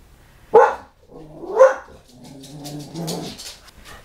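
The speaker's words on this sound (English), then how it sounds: "This dog is driving me insane." A restless dog barking indoors, two loud close barks about a second apart followed by softer whimpering and whining noises.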